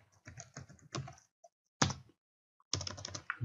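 Keystrokes on a computer keyboard while commands are typed, short clustered bursts of clicky taps separated by silent pauses, close and quiet.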